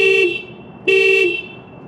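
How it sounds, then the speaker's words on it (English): An Acura NSX's alarm sounds its horn in two loud, close honks, each lasting about a third of a second, separated by a short pause. "the alarm will go off like crazy"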